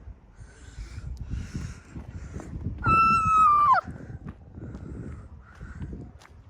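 A seagull gives a single harsh, drawn-out cry in a seaside town, loud and close, standing out briefly over a low rumble of background noise.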